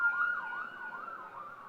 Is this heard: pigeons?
no